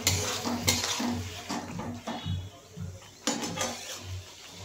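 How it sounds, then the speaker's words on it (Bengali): Spice paste being stirred and sautéed in a pan on raised heat for a tilapia curry, with repeated scraping and clinking of a utensil against the pan over a soft sizzle, close and moderately loud. "এবার মশলাটা আমি ভালো করে কষাতে থাকবো।"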